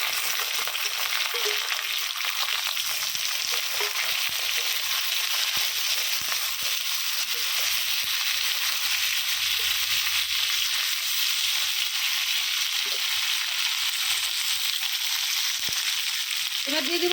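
Onion, tomato, garlic and green chili fry in a pan with a steady, loud hiss of sizzling oil lasting throughout, with a few faint scrapes of stirring and no talk.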